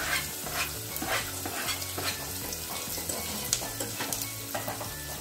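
Vegetables fry in hot oil with cumin and asafoetida in a pan while making rajma, giving a dense, continuous crackling sizzle with busy stirring and scraping, and a rhythmic low hum beneath.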